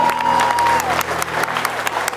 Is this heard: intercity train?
no